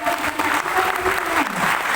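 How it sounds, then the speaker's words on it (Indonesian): Full, sustained applause from a seated audience at an Indonesian national symposium, a loud, steady roar of many hands, with a voice faintly audible underneath. "mohon tepuk tangannya sekali lagi"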